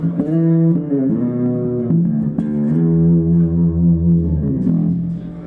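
A bass guitar through a distortion pedal plays sustained, gritty low notes with a few changes of pitch, loud and alone.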